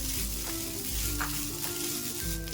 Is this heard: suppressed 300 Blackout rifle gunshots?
no